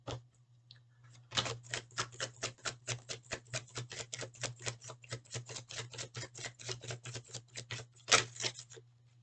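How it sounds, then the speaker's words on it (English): A deck of cards riffle-shuffled, a rapid run of crisp clicking flutters lasting several seconds, close and steady, ending with a louder snap. "I'm going to shuffle them"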